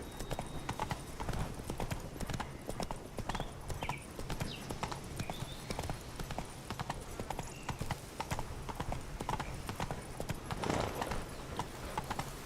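Steady clip-clop of horse hooves on a path in The Witcher 3: Wild Hunt, Blood and Wine, rhythmic and close throughout with game ambience beneath and an occasional faint whinny.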